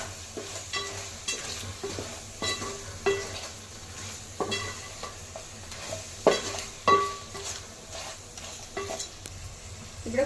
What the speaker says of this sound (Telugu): ఈ మసాలాలన్నీ చికెన్ పట్టేలాగా మనం ఒకసారి ఫ్రై చేసుకుందాం